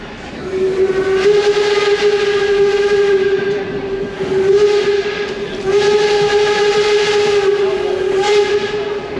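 Steam excursion train at Steamtown Railfest in Scranton, its steam whistle blowing loud and close in long sustained blasts with brief breaks, over the steady rumble of the rolling cars.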